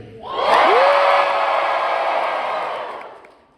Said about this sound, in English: Just give me about 2 seconds of real cheering.